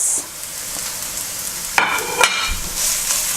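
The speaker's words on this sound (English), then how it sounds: "It's important to keep stirring because the wok is very, very hot." Carrots hiss and sizzle steadily in hot oil in a very hot wok during a vegetarian stir-fry, with brief scraping clatters from stirring partway through.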